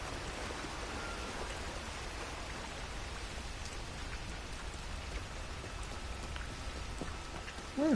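Steady, intense rain falls in Red Dead Online, a dense unbroken wash of drops on surfaces that holds at an even level throughout, with a faint rise right at the end.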